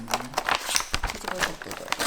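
A plastic package holding store-bought sponge cake is torn and handled, giving close crinkling, rustling and irregular crackling bursts over about two seconds.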